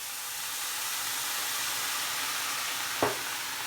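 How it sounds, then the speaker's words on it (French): Soy sauce hits a hot pan of fried rice with ham and peas, giving a steady broad sizzle throughout and a sharp burst of hiss near the end as the liquid deglazes. "Donc j'aime bien déglacer sauce soja."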